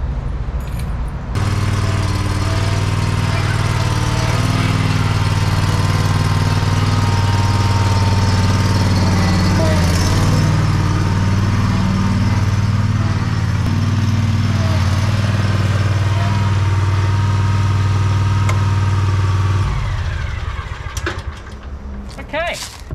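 A SCAG lawn mower cutting thick grass and weeds, its engine starting up loud and close and droning steadily with a deep hum, occasional strain and rattles, before winding down near the end.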